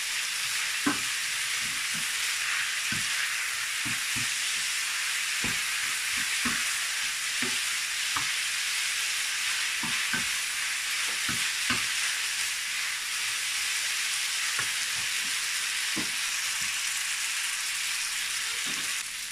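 Pasta is stirred into a sizzling pan of red prawns and green asparagus, a steady loud frying hiss with soft utensil scrapes and taps scattered throughout, no voices.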